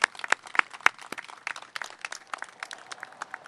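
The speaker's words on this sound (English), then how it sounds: "let's give Jim and Manna a round of applause" A small audience claps for Jim and Manna at a CityLift event, sparse uneven claps from a modest crowd, a few sharp near hits early then thinning into lighter scattered clapping.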